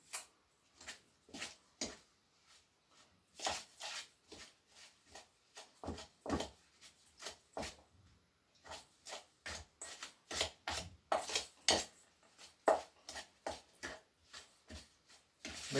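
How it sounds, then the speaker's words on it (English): Cream cheese and dry ingredients worked together in a bowl make quiet, irregular scraping and tapping strokes, close but faint, with short gaps between them. "we're going to mix our cream cheese and the dry ingredients"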